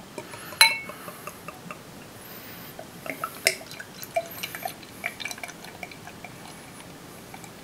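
Beer, a 9.5% ABV La Caracole Nostradamus, is poured into a glass, heard as soft trickling and fizzing with faint drips and a light clink of glass, fairly quiet and close, with no talking.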